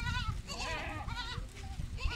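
A herd of goats bleats in Lima, several overlapping wavering cries close by, one after another, with faint background noise.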